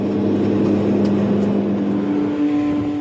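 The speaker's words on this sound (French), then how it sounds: "Certains coureurs roulent à plus de 200 km/h." Supercars in the Gumball 3000 rally speed along a highway at over 200 km/h, a loud continuous engine roar with a steady droning tone that swells and fades slightly as the cars pass.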